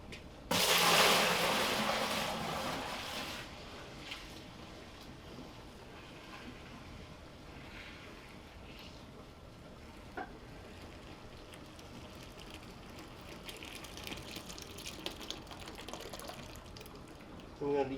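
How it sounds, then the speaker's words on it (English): Beer wort for an IPA poured quickly during homebrewing, a loud splashing rush for the first few seconds that then fades to a quiet, faintly trickling background. "The trick is to pour it really fast."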